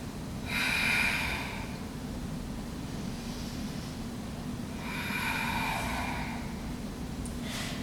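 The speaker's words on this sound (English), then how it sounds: "2 big breaths." Two deep breaths taken during a flowing yoga sequence, each a broad airy rush of inhale and exhale about four seconds apart, close to the mic over a steady low hum.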